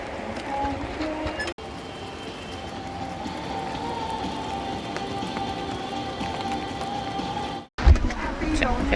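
Steady rain falls at a river campsite, a soft continuous patter with a few sharp cuts and a brief thump near the end.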